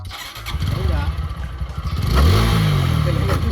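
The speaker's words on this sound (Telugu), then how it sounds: "ముందుగా బండి స్టార్ట్ చేయాలా" A motorcycle engine catches and rises in a loud, rumbling rev near the middle of the clip, with clatter and someone talking over it throughout.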